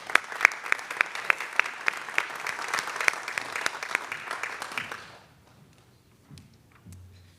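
At a Lancaster County Academy graduation ceremony, an audience claps steadily for about five seconds with a few sharp individual claps standing out, then the applause dies away into quiet room noise.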